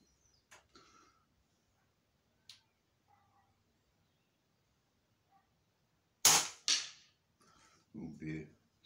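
ATA Airborne air rifle firing pellets at 50 yards outdoors, a couple of sharp close cracks among faint handling clicks and quiet stretches.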